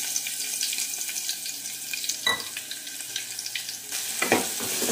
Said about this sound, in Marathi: फोडणी करून घेते.